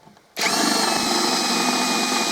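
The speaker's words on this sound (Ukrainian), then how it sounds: "Друзі, це був у мене режим, ну, то є мала швидкість." A PROCRAFT PA 21 Li cordless drill switches on and runs steadily at low speed, a sudden start settling into a continuous whirring motor whine with a constant, close and fairly loud tone.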